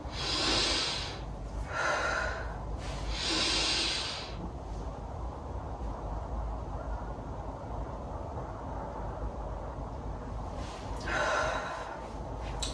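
Forceful breaths during a breathing exercise in a joint-mobility gymnastics session: several loud, rushing exhalations in close succession early on, a quieter breathy stretch, then another strong breath near the end, with no speech.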